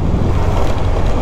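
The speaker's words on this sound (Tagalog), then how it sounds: "nakaramdam tayo ng medyo preskong hangin." Wind rushing during a motorcycle ride through tree-lined roads toward a campsite in Norzagaray, Bulacan, a loud, continuous low roar of buffeting air on the microphone with no voices.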